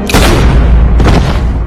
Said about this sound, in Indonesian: Akhirnya Eric langsung ditembak mati